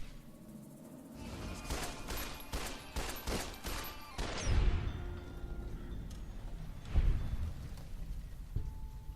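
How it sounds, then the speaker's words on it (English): Rapid automatic gunfire from a minigun in Fallout: New Vegas, dense bursts of loud close shots over the first few seconds, then heavier booming impacts around the middle and a scattered, fading rattle with no talking. "Oh, he had a minigun."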